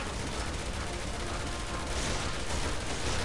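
Continuous gunfire in Resident Evil 6 as shots are aimed at barrels, a dense, loud barrage of rapid bursts with no clear gaps.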